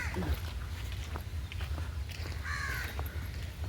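Harsh crow caws ring out a few times at Lalbagh Garden, Bangalore, over a steady low rumble of traffic and bustle, with brief chirps in between.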